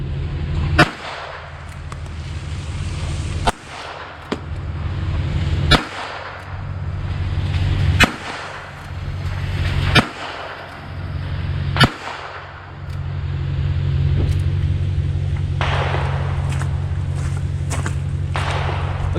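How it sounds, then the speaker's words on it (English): Sharp gunshots from a Ruger Wrangler .22 LR revolver at an outdoor range, about six loud cracks spaced a couple of seconds apart, then a steady low rumble with a few fainter distant pops. "that was a lot of fun today at the range with this Ruger Wrangler chambered in .22 long rifle"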